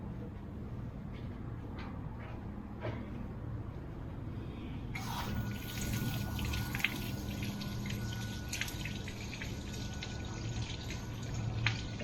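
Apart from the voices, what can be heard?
water running from a hose while flushing a boat outboard engine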